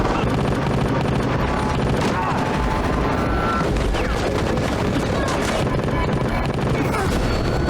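Dense gunfire and explosions from a scene in The Walking Dead, an episode of the eighth season, with continuous loud bursts and shots crowding together and mixed with voices throughout.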